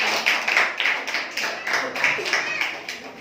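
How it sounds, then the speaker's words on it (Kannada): Audience clapping in a school event hall, a steady patter of many hands that stays moderately loud and fairly close, slowly thinning toward the end. "ಅವ್ರಿಗೂ ಕೂಡ ಧನ್ಯವಾದಗಳು, ಚಪ್ಪಾಳೆ ಹಾಕಿ"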